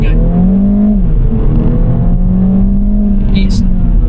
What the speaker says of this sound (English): Let's do a little 0 to 60 pull.